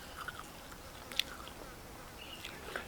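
Someone chewing boiled caper leaves (phak kum) with grilled catfish in a forest-kitchen setting, soft close-up mouth sounds with one sharper bite, quiet and without speech.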